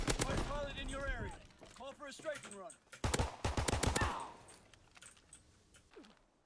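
Rapid bursts of video game gunfire crack out in quick strings between short pauses, loud and close, with a person talking over parts of it.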